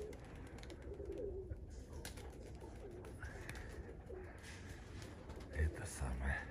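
Pigeons cooing softly outdoors in winter, low murmuring calls beneath faint ambient noise and distant sounds, with a few brief louder bumps near the end.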